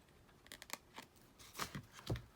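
Scissors snip through a paper tag in a few quiet, sharp cuts spread across a couple of seconds, close up with no talking.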